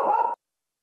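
A single short dog bark or yelp heard during a remote legislative committee meeting, brief and fairly loud, cutting off abruptly after about a third of a second with no talk over it.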